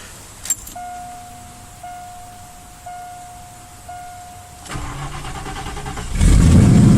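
A 1989 Mercury Grand Marquis engine cranks briefly on a high-torque starter against a steady electronic chime, then catches and roars to life, loud and close.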